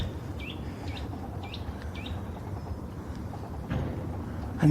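An unidentified songbird sings a few short, high chirps in the distance during an outdoor morning walk, faint over steady rumbling ambient noise.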